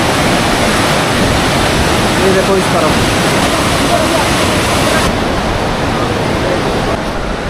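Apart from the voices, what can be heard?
river flowing below a mountain gurdwara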